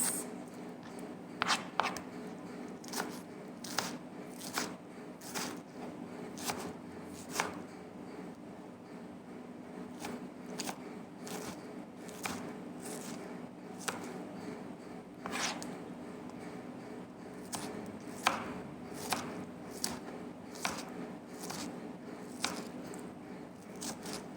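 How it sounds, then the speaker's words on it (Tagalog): Tomatoes being sliced with a knife on a cutting board, a series of soft, irregular cuts and taps spread across the clip, quiet and close, with no talking. "Naghihiwa po ako ng kamatis."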